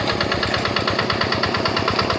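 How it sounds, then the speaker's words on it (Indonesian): A Yanmar diesel tractor engine runs steadily in a rice field, a loud, close, even chugging with a regular rapid pulse throughout and no voices. "Mesin traktor Yanmar"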